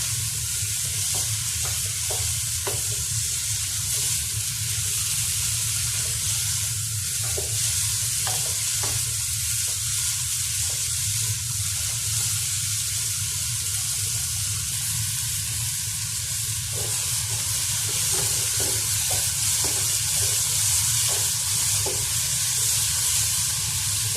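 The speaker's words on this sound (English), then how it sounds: "Keep stirring." Tuna pasta sauce stirred in a frying pan, a loud continuous sizzle and hiss with repeated scraping stirs throughout, close and with no talking.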